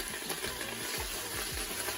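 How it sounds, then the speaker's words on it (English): Cabbage sizzles in a frying pan, a steady crackling hiss close by with a few soft stirring scrapes underneath. "Make sure you hear that sizzle."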